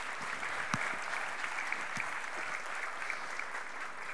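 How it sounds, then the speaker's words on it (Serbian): Sustained audience applause at an award ceremony for scientific achievement, an even wash of many hands clapping steadily throughout, moderately loud and with no talking over it. "evo, dobio je ovaj vaš aplauz"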